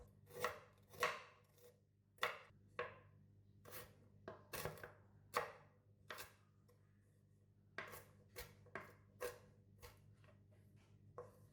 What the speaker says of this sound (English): Next, cut the galangal.